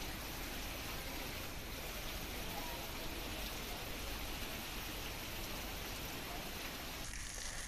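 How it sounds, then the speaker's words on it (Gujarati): Heavy downpour over the town of Malpur in Aravalli, Gujarat, with markets flooding: a dense, continuous rain roar with no breaks, steady and enveloping from start to finish. "અરવલ્લીના માલપુરમાં પણ ધોધમાર વરસાદ વરસી રહ્યો છે"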